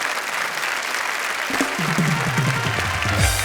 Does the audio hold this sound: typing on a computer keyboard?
no